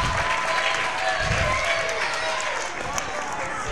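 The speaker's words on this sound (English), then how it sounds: "Can you give Dave an amazing round of applause?" Applause from an audience at a church gathering fills the moment, a dense, steady round of clapping held at full strength before easing slightly near the end.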